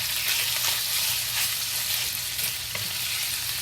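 Bacon frying in hot oil in a wok for Chinese fried rice, a steady dense sizzle and crackle filling the whole stretch, close and continuous with occasional louder pops and no voices.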